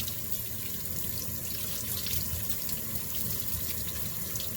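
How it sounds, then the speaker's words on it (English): Hot water runs steadily from a tap into a sink while a cleaning cloth is rinsed under it, a close, continuous splashing rush that holds constant throughout, with no voices. "Always want to use hot to rinse all of your cloths"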